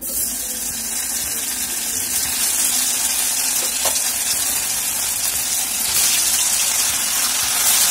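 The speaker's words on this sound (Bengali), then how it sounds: "তেল গরম হয়ে গেছে, এবার এক এক করে ভাজবো।" Balls of chhana (fresh cottage cheese) frying in hot oil, a loud, steady close-up sizzle and bubbling that holds through the whole stretch, with no talk.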